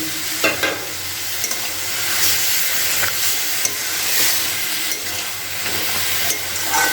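Fried lentil bori is stirred into a radish curry in a pan, a steady close sizzle and hiss with occasional scraping knocks of the spoon.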